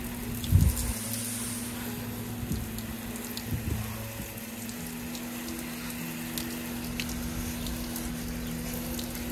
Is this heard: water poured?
yes